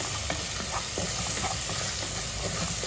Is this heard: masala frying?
yes